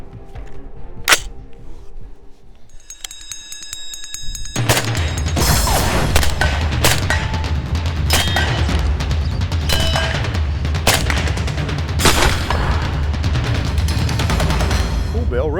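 A 7.62x40 rifle fired outdoors: after a single sharp report and a quiet lull, a fast string of loud, closely spaced gunshots follows, with people talking nearby.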